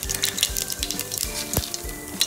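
Cumin, mustard seeds and whole spices sizzle and crackle in hot oil for a veg pulao tempering, a steady close frying hiss with sharp pops and a few stirring clinks, no voices.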